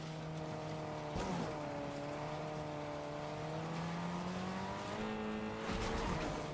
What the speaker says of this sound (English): Now, I like this car. This car really moves.